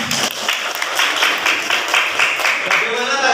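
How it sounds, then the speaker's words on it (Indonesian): A school class of vocational high school students claps for a debate group in a classroom, steady lively clapping from many hands for the whole stretch, with some voices mixed in. "Ya, beri tepuk tangan buat kelompok 3."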